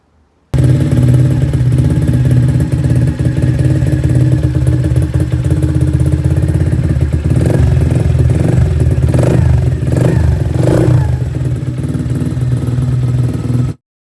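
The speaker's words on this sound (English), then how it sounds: "the bike's running really, really badly. The exhaust note's got a real horrible bark to it" A Lexmoto ZSB125 motorcycle engine runs badly, a loud, continuous rough drone with an uneven barking exhaust note and a few throttle surges, starting abruptly and stopping sharply after about thirteen seconds.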